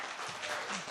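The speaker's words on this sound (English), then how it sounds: "You got actually standing ovation from everybody here in the studio." Brief, dense burst of applause from a studio audience greeting a guest, a steady wash of many hands clapping together at moderate loudness.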